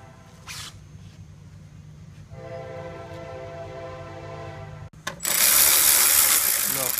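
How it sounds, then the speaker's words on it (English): A ratchet tightens bolts during timing belt and water pump work on a 2006-2008 Audi A4 2.0T, giving a steady close clicking pawl sound, then a louder burst of ratchet spinning near the end, with no speech. "Now tighten up all the other bolts."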